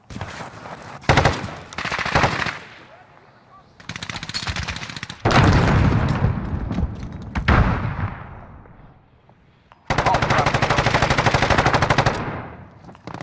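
Machine gun fire in a first-person shooter game on the Nuke map, long loud sustained bursts of automatic shots broken by short gaps, close and dominant, with no speech heard.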